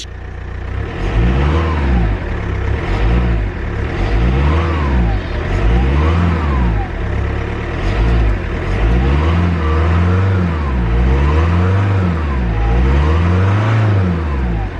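A newly bought first car's engine, in a car with leather seats, runs loud and close, revved repeatedly in regular swells of rising and falling pitch over about fifteen seconds.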